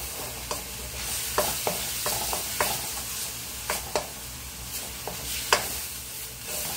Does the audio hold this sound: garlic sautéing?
yes